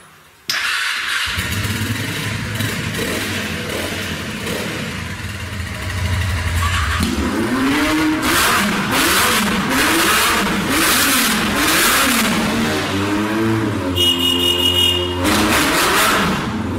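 Motorcycles, including a 1350 cc Yamaha and a 650, fire up and rev repeatedly, with loud, close engine roars rising and falling in bursts over a steady idle.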